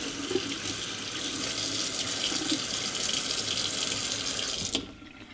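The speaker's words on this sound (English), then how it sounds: "Okay, here is my cloth. I'm gonna make it wet." Tap water runs steadily into a sink to wet a cleaning cloth for scrubbing dirty pans, a continuous close splashing stream that cuts off abruptly near the end.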